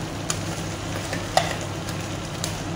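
Minced garlic frying in melted butter and oil, a quiet steady sizzle with a few faint clicks of stirring, and no talk.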